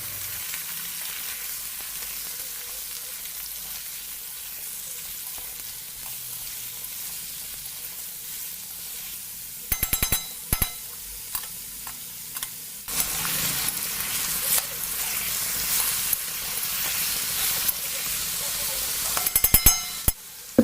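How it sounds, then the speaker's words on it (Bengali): Small pieces of bottle gourd fry with onions in a pan, a steady soft sizzle that swells louder and harsher about midway, with a few clattering stirs near the middle and end. No voices. "এবার এর মধ্যে ছোট ছোট টুকরে কেটে রাখা লাউ আমি দিয়ে দিলাম"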